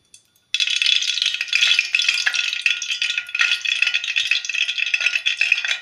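Hot oil goes into a heated pot for dal tadka, starting with a sudden loud sizzle that keeps crackling and spitting close up without letting up.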